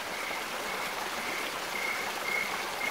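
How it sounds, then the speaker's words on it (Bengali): Tidal river water gushes into a creek, a steady close rushing and burbling flow that continues evenly throughout with no voices. "খাঁড়িতে গলগল করে নদীর জোয়ারের জল প্রবেশ করতে আরম্ভ করেছে।"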